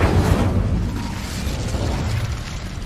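Incendio fire spell in Hogwarts Legacy on PS5, a loud fiery blast and burst at the start that fades into a rumbling, crackling tail, with no voices.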